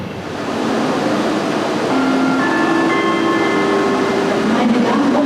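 Intercity train bound for Karlsruhe, a loud, steady close rumble that builds in the first second, with thin whining tones rising and holding over the middle and end.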